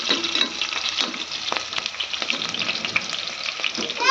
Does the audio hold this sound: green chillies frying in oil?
yes